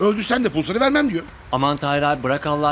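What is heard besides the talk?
None of the usual background noises is heard.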